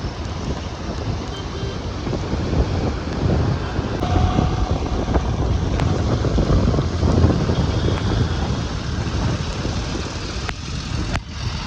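Heavy rain pours steadily during a red-alert downpour in Coimbatore, with wind roaring through it as a loud, unbroken broadband wash that lasts the whole stretch, with no voices.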